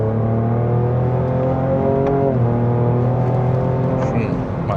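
A Ford Ranger Raptor pickup's engine drones loud and close from inside the cab, its pitch stepping as it revs through downshifts, a steady mechanical hum running throughout.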